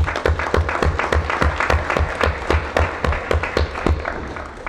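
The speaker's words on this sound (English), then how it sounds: "let us please give our students and the chaperones and teachers a very big round of applause" Applause fills the FSM Congress chamber as legislators welcome visiting students, chaperones and teachers, a steady, fairly loud round of clapping with many individual claps audible throughout.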